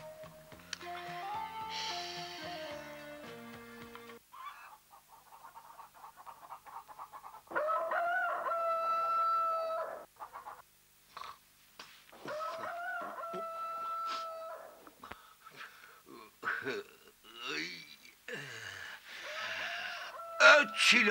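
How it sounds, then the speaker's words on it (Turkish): A rooster crows in a 1986 Turkish comedy film scene, with several drawn-out crowing calls rising over music and people talking; the calls are mid-loud, and spoken dialogue dominates much of the scene. "Çil horozum, öt!"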